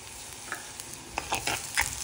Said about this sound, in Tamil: நன்றாக கரண்டியாக கிளறி வச்சிருக்கேன்